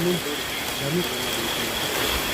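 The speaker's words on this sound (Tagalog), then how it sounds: "Ang lakas ng ulan." Heavy rain pours steadily, a dense, even hiss that fills the whole stretch, with faint voices partly underneath it.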